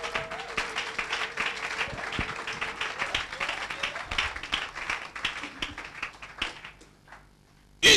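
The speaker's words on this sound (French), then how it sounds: "Acclame Jésus" Church congregation applauding Jesus during a service, a dense, lively round of hand clapping that gradually thins and fades out, ending with a brief loud burst.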